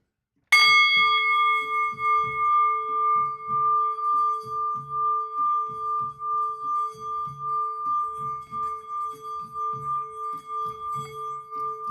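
A ritual bell struck once and held in the hand rings out with a bright sustained tone that lingers steadily for the whole stretch, while a person speaks quietly underneath throughout.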